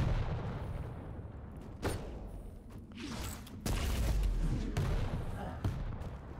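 Rocket launcher blasts in the video game Quake during a 1v1 championship qualifier match: several heavy booming bursts, with an indistinct voice in the background.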